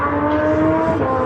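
A twin-engine GTI drag car on big 612 tires revs hard at the line during a wheelie session, a loud, steady engine roar held close throughout with no talk.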